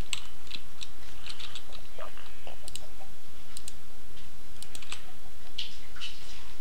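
Rapid, irregular clicks of typing on a computer keyboard while playing Minecraft in hardcore mode, the keystrokes coming in uneven bursts close to the mic over a steady low background hiss.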